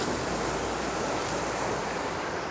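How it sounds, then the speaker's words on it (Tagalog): Strong surf breaks on Miyukinohama Beach in Odawara, Japan, a pebble shore, making a loud, continuous roar with wind buffeting the microphone and no voices. "Kaya lang malakas yung alon."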